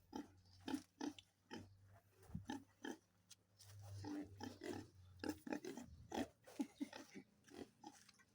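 A pig with a lump near its rump grunts repeatedly at close range, short low snorts in irregular bursts over a steady low hum, with a few quieter pauses between grunts.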